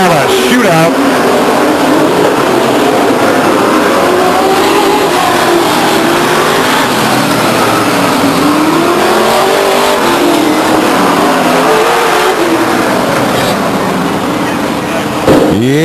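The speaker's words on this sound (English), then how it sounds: "we're going to get some pretty fast race cars with only 5 laps to go" Grand Am Modified race cars roar around Stockton 99 Speedway, a loud continuous engine drone rising and falling as the pack passes close by, with an announcer talking over it throughout.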